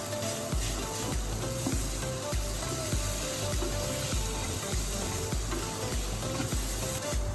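Carrots and peas sauté in a hot pan for vegetable cutlets, giving a steady, close sizzle broken by regular scrapes and clinks as a spoon stirs the mixture.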